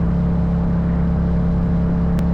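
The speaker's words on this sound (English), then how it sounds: "with this exhaust, the CP2 engine sounds incredible" A 2022 Yamaha MT-07 with its CP2 engine and full carbon Akrapovic exhaust runs with a steady, loud, close low grumble, a constant idle-like drone with no voices over it.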